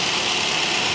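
A 2015 Kia Morning with a manual gearbox and a 1.0-litre petrol engine idles with a steady, even hum, close and continuous with no voices.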